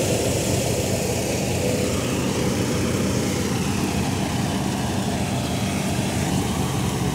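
A Ghazi tractor engine running steadily while digging pits, a loud continuous rumbling drone up close with no pauses and no talk.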